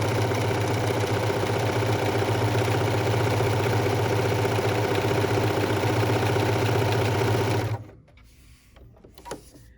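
A sewing machine fitted with an open-toe walking foot stitches a satin stitch through batting, humming in a fast, even, steady drone for about eight seconds before stopping, close by with no speech.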